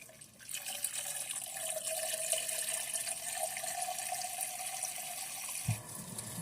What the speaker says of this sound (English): Just spraying some water.